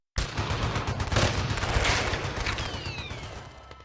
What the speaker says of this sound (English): we heard gunshots in the distance.